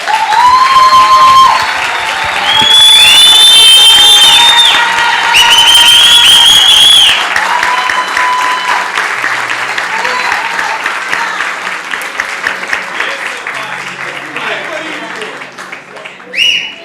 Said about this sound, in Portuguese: Se coloque de pé e dê uma grande salva de palmas ao Senhor